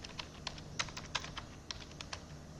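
Fingers type a command on a computer keyboard, a quick irregular series of light clicking keystrokes close by, with no one speaking.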